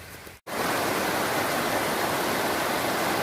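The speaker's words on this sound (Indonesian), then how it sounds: "Kita berjalan di samping sungai, airnya bersih sekali." A clear river stream flows beside a hiking trail in Mojokerto, a loud, steady, close rushing of water that starts after a brief dropout at the very beginning.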